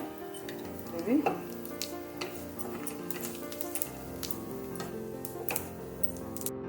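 Whole cumin seeds sizzle and crackle in hot oil for tempering, with a steady frying hiss and scattered pops, plus some light stirring clinks.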